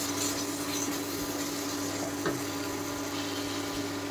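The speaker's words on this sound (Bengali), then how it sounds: "এখন মশলার সাথে একটুখানি নেড়ে চেড়ে মিশিয়ে দেব" Soaked moong dal being stirred into fried spices in a pan, a steady close sizzle with faint scraping throughout, no voices.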